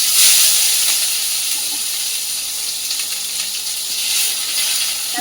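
Onion and garlic sizzle in a wok that was just used for frying fish, making a bright, steady hiss close by that swells slightly at the start and again later, with no talking.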